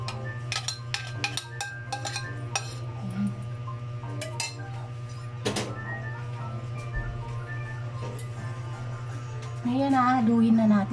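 A utensil stirs a rice powder mixture for kimchi in a bowl, with light clinks and scrapes against the dish while a person talks over the kitchen sounds and a steady hum.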